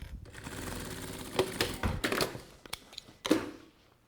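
Close-up sewing machine stitching a pencil case, with a steady rapid clatter broken by a few sharp taps and stops as the fabric is turned, ending in quiet.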